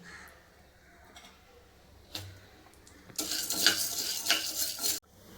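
Chana dal dry roasting in a pan for idli powder, a soft scraping stir that turns into a louder, brighter rattling and rustling burst of stirring for about two seconds before stopping abruptly.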